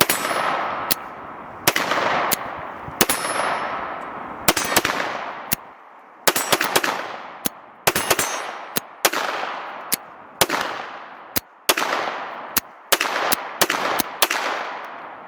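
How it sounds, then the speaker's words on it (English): Wilson Combat EDC X9L handgun firing cheap Tula ammunition: a string of sharp, loud shots, mostly single with a few quick pairs, each ringing out with a long echo, close to the microphone and with no talking. "Let me keep shooting some. I am shooting cheap Tula ammo."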